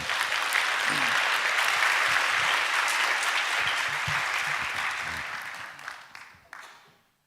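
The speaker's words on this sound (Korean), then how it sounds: "우리 따뜻한 사랑의 박수로 환영하시겠습니다" A church congregation at a Friday worship service applauds warmly to welcome a missionary speaker, broad sustained clapping that swells and then tapers off to silence near the end.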